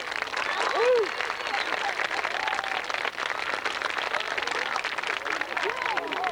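Crowd applause for the 1989-90 homecoming court at a Smithville vs. Belmont homecoming game, a steady wash of clapping through the whole stretch with voices mixed in.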